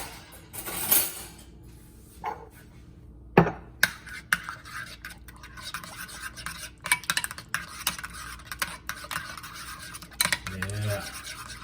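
Butter and a third cup of hot sauce being mixed for buffalo turkey wings: intermittent scraping, clinking and tapping of a utensil against a bowl, with a few sharper knocks, close and moderately quiet.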